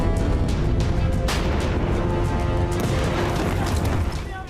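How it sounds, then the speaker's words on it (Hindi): Explosions from Israeli IDF airstrikes on Lebanon: a loud, continuous booming roar with rumbling bursts that lasts the whole span, fading slightly at the end. "लेबनान से सीरिया तक बमबारी, आईडीएफ की एयर स्ट्राइक से कांपे हिजबुल्लाह के आतंकी।"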